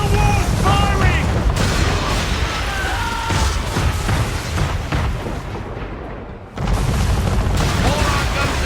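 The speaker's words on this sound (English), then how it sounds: "Man of war's firing!" A man-of-war warship fires its cannons in Assassin's Creed 3 with heavy booms and bursts layered over a dense, loud battle din, a brief lull near the end, and a voice shouting over the noise.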